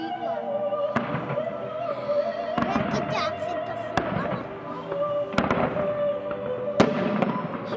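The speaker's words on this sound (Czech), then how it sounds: "Vlastně mimo ten čtení si taky dělají ohňostroj ze zhora." A fireworks display in Benátky nad Jizerou, 2012, with repeated loud explosive bangs bursting every second or so over a steady crackle and hiss, a sustained whistling tone running through, and crowd voices faintly beneath.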